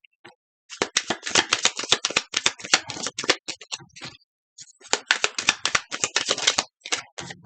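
Tarot cards are shuffled by hand in a rapid, crisp run of flicking, riffling clicks, close and clear, pausing briefly midway before resuming, with no talking.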